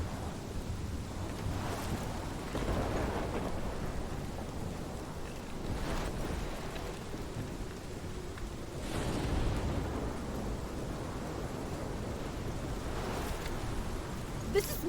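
A storm in the game Life is Strange: steady rain hisses throughout while several low thunder rumbles swell and fade at intervals, moderately loud.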